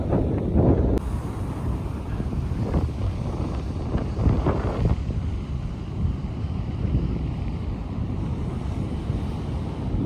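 Steady coastal wind rushes with surf rolling in at a boat ramp near St Lucia as fishing boats head out, a continuous moderate roar with a few brief louder gusts and no talking.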